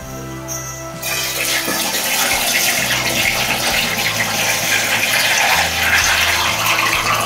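Water is poured into a vessel for spruce shoot wine: a steady, loud splashing gush begins after a brief pause and continues unbroken, close up, with no talking.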